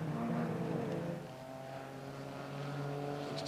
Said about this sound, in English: Two cars almost as one coming down slipstream there.